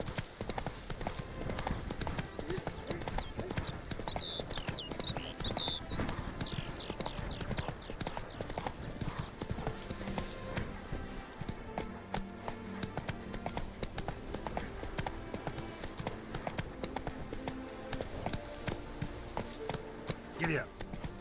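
Roach the horse gallops in The Witcher video game, a rapid, continuous clatter of hooves heard close throughout, with game voices and other sounds layered underneath.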